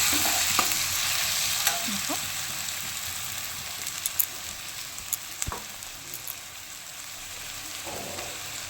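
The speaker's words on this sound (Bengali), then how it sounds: "এবার আমি মাখা চিংড়ি নারকেল পোস্তটা আমি এটা দিয়ে দিচ্ছি যেহেতু নাড়াচাড়া করবো" Prawns mixed with coconut and poppy seed paste are stirred in an oiled pan, giving a steady soft sizzle with scattered scraping clicks from the spoon, close and continuous without talk.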